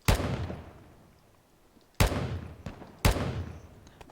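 An AR rifle fires in the shooter game Will To Live Online, with heavy booming reports spaced a second or so apart, each followed by a long echoing decay.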